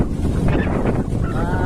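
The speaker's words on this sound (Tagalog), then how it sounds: "Lakas ng hangin." Strong wind buffets the microphone in a heavy, continuous roar, with a faint wash of sea in the background, at Morong Beach near Subic in the Philippines.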